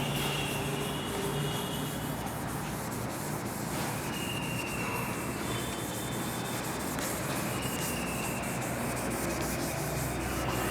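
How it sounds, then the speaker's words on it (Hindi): Someone erases writing from a board in a classroom lesson, making a continuous, even hissing rub that carries on for about ten seconds without pause. "मैं इसको रब कर रहा हूँ"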